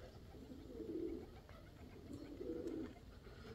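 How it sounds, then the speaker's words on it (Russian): Pigeons from a flock coo softly in two low, rolling phrases, faint and somewhat distant over a quiet outdoor background, with no talking. "Вон все небо там в голубях."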